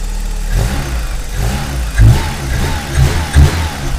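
An Opel Calibra engine revs in short bursts, with a few louder surges of throttle over a steady low rumble; close and fairly loud, no talking.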